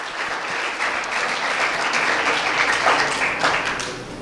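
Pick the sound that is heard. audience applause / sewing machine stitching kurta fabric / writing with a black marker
audience applause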